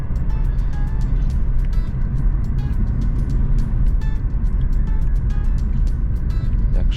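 A Renault Megane 1.9 dCi diesel cruises at a steady speed on cruise control, its engine and road noise a constant loud drone inside the cabin, with faint rhythmic ticks throughout.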